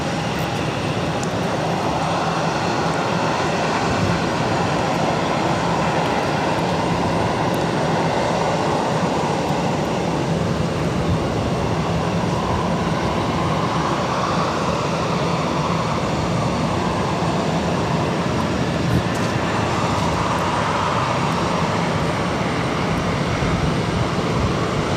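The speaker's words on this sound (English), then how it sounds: "Now about to touch down on 22 left, Delta Airlines 257 coming in from Amsterdam on the A330-300." Delta Air Lines Airbus A330-300 landing on runway 22 left at Boston Logan, a steady, continuous jet rumble and whine at moderate distance, sustained with little change throughout.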